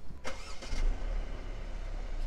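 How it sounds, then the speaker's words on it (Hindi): Mercedes C300 cabriolet started with its push button: a short whirring crank, then the engine catches and settles into a steady low idle, close and clear. "So the car is on."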